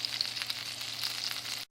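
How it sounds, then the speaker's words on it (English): Arepas fry in butter in a frying pan, a steady close sizzle with crackling pops and no talking, ending abruptly. "here are the arepas in the frying pan in butter"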